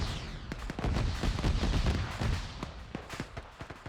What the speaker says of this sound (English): GMG fire has pretty much neutered that flank